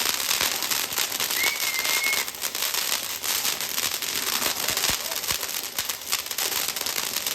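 Diwali firecrackers bursting outdoors, a dense stream of sharp cracks and pops at varying distances with a brief whistle among them, fairly loud and continuous.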